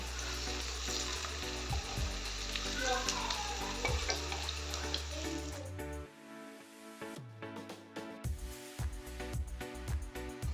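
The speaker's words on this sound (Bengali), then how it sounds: "আমি এখন বড়াগুলোকে ভেজে নেব।" Battered taro-leaf fritters (alu patar bora) fry in hot oil in a kadai, giving a crackling sizzle that is strongest at first and then thins out beneath steady background music.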